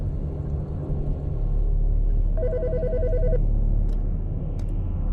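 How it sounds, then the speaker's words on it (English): A telephone rings in the Autopsy Simulator video game, a single burst of electronic trilling lasting about a second, clear and fairly loud over a steady low ambient hum. "The fucking phone."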